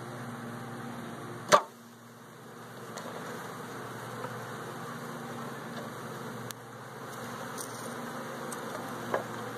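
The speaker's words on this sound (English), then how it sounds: "We're going to shake the bees down so we can get this out without crushing a lot of bees" Honeybees buzzing steadily as a frame is shaken during a package-versus-nuc hive comparison; a sharp knock early on, then a constant moderate hum with occasional small clicks.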